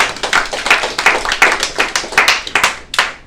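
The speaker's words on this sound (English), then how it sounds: "Give yourselves a round of applause." An audience at a real estate seminar claps together, a quick run of sharp, close hand claps lasting a few seconds and ending abruptly, with no talking over it.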